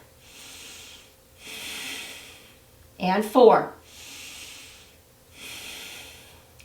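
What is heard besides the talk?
breathing during yoga pose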